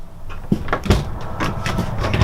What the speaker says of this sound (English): Got your camper door screen.